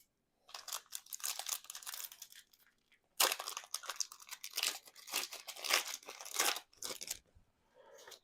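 A Pokémon card booster pack from the Evolving Cries and 151 sets is torn open up close, with loud crinkling and ripping foil coming in bursts broken by a short silence near the start, then more tearing and rustling as the wrapper is peeled away.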